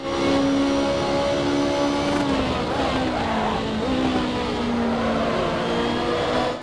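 A black Ferrari race car in an online racing video game, its engine droning loud and steady throughout with shifting tonal pitch and brief tire scrubbing as it pushes ahead.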